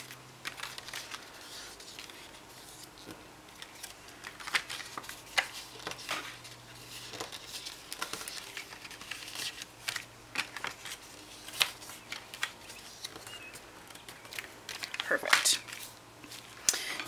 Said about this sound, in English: now I'm going to fold all of my score lines